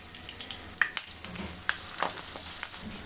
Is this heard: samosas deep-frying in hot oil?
yes